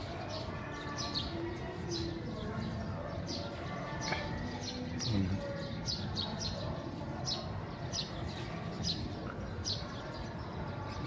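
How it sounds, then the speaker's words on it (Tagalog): Two wild birds call outdoors, with scattered short chirps and cooing notes over a steady background hum, fairly faint and at a distance. "share ko lang yung dalawang ibon dyan"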